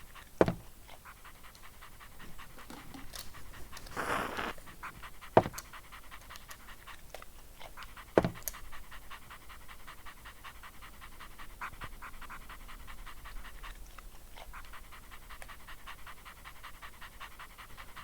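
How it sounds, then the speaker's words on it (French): Dog panting steadily outdoors for the whole stretch, close and fairly quiet, with a few sharp knocks and rustles as it moves around. "j'ai mis le chien en extérieur qui bouge beaucoup, qui fait beaucoup de bruit"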